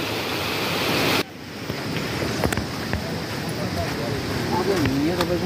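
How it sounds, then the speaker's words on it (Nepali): Water rushes into the intake of a mini hydropower plant on a river during a flow test, a loud steady outdoor roar with wind buffeting the microphone, and a sudden drop in level partway through. "यो सर्जु खोलाको यो इन्टेकमा पानी परीक्षण भइरहेको छ"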